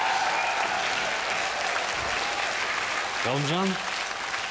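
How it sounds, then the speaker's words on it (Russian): An audience in a hall at a televised singing competition applauds steadily, a loud sustained wash of clapping, with a voice speaking over it toward the end. "Еще раз я хочу услышать аплодисменты нашего зала."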